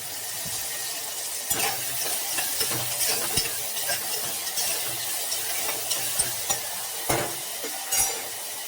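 Onions fry with salt and turmeric for a potato and pea kurma, a steady close sizzle broken by irregular scrapes and clinks as a spoon stirs the pan.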